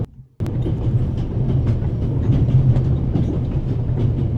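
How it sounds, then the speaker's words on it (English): A train from the video game The Raven rolls along its rails with a steady rumbling clatter and rhythmic clicks after a brief near-silence at the start, a continuous mid-level interior ride sound. "If you're such a clever fellow, what am I doing on this train?"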